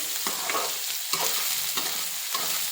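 Soybean chunks fry in hot oil left from frying potatoes, a continuous crackling sizzle with rhythmic spatula scrapes and stirs about every half second, close and steady.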